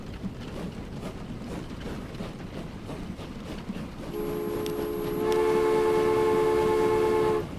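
A train with boxcars in a railway-building video game rolls along with rhythmic clatter, then a loud sustained multi-tone horn blares and holds to the end, with no talking.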